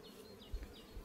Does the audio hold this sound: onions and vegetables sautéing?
no